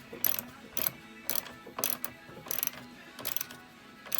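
A socket ratchet clicks in bursts as radiator bolts are snugged down during a radiator replacement on a 1996 Ford Thunderbird, about seven short rapid ratcheting runs at close range with no talk.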